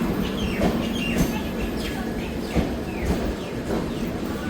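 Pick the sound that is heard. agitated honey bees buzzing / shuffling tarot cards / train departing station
train departing station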